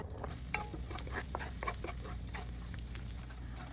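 Garlic sautéing in a pan for Filipino mung bean stew, a steady low sizzle with soft stirring scrapes and faint clicks throughout, no talking.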